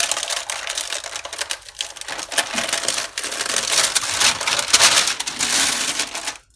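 Packaging on a pad of 200 g/m² marker paper from a Doodle&Sketch subscription box is torn open, giving a close, continuous crackling and crinkling rustle with sharp snaps, with no talk.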